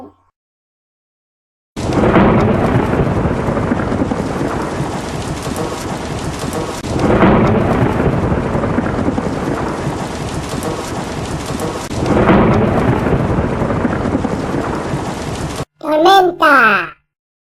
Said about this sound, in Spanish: Tormenta.